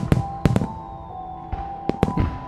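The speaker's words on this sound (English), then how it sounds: "All the city's fireworks were set off earlier" Fireworks go off around a city on Independence Day: about six sharp, loud bangs in irregular succession over a steady low hum.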